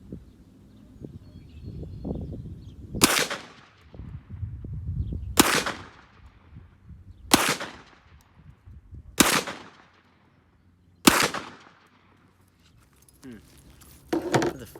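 Glock 40 MOS 10mm pistol fired at a range: five sharp, loud single shots spaced about two seconds apart, with handling noise and a low murmur of talk between them.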